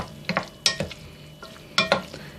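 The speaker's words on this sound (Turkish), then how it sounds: "Şimdi üzerine şöyle 2 yemek kaşığı kadar ayçiçek yağı ilave ettim. Güzelce karıştıralım." A spoon stirs boiled manti dumplings coated with sunflower oil in a bowl, giving a few separate bursts of wet scraping and clinking with short quiet gaps between them.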